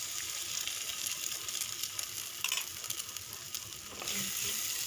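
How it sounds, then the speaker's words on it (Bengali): An egg sizzles in a pan with pasta as it fries, a steady close crackle and hiss with brief stirring scrapes, the sizzle swelling slightly near the end, no voices. "ডিমটা এর মধ্যেই ভাজা হয়ে যাবে"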